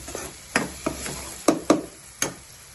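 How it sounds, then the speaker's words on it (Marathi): Onion and tomato sautéing in oil for chole bhature, with about six sharp spatula scrapes and stirs at an uneven pace over a soft, steady background sizzle, close by. "हे बघा किती छान कांदा टोमॅटो परतून झालेला आहे"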